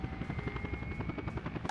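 Helicopter rotor and engine from the simulation game Workers and Resources, a steady rapid chopping thud with a constant high whine, loud and continuous with no talk.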